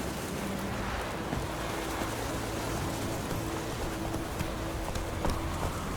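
Hooves clip-clop in quick rhythm as a horse gallops in The Witcher 3: Wild Hunt, moderately loud over a noisy bed of ambient game sound.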